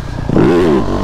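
A KTM 250F motocross bike's engine revs in one short, rising and wavering burst, close and loud, with no voices.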